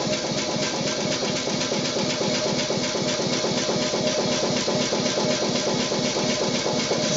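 New Maxitrak live steam model locomotive with slide valves, still stiff and bedding in, running steadily with a close, rapid rhythmic chuffing and mechanical clatter that keeps an even beat throughout.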